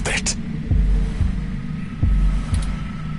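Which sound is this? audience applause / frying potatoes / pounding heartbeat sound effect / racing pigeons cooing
pounding heartbeat sound effect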